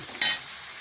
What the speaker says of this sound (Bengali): একটু নাড়াচাড়া করে লবণটা মিশিয়ে নিচ্ছি